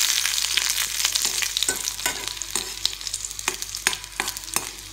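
Two dried red chillies fry in a little oil with garlic in a pan: a loud, close sizzle punctuated by regular scraping strokes of a spatula being stirred through.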